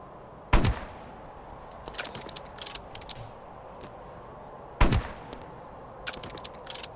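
Rifle shots ring out in a survival video game set in a forest, two sharp loud reports a few seconds apart amid scattered smaller crackling hits and game noise, with no talking.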